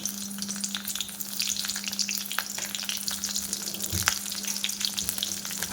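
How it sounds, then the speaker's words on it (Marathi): Slit green chilies with a bay leaf and cardamom frying in hot oil for tomato rice, a bright crackling sizzle with stirring scrapes and a steady low hum beneath, close and without voices. "आणि हे छानपैकी आपल्याला फ्राय करून घ्यायचे आहे."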